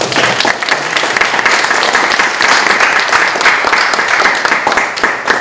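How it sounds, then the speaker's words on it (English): A seated audience at a discussion event gives a loud, close, sustained round of applause, dense clapping holding steady throughout without a break. "I think a round of applause is appropriate."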